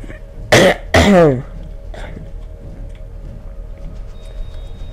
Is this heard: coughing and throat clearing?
yes